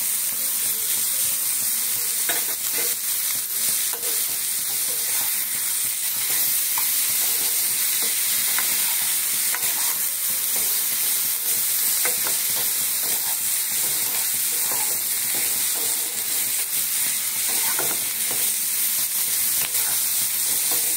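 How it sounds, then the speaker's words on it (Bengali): Paneer cubes frying with ginger and green chilli in a kadai for kadai paneer, a loud, steady close sizzle with faint stirring scrapes throughout and no voices. "এইবারে আদা কাঁচা লঙ্কাটা দিয়ে একটু কষানো হয়ে যাবে, এইবারে দেবো পনিরগুলো।"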